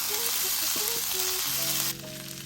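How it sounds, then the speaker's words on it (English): Pork sisig sizzles on a hot sizzling plate, giving a strong, continuous frying hiss with faint squeaks that eases slightly toward the end. "Now it's ready for the sizzling plate."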